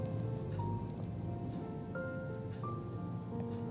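Half a cup of chopped onion and whole spices fry for pulao in a pan, a steady soft crackling sizzle throughout, with no talk.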